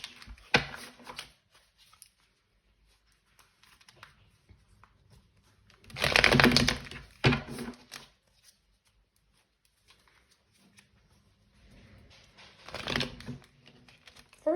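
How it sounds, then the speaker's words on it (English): Tarot cards are shuffled in a few short, crisp bursts of riffling and rustling, separated by quiet pauses. "I'm just gonna do this shuffle"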